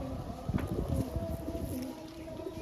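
A small Madrasi pigeon coos close by, soft low repeated calls over a faint background hum.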